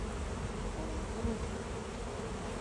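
Bees buzz densely around open wooden hive boxes during a honey harvest, a steady close drone with no breaks and no talking.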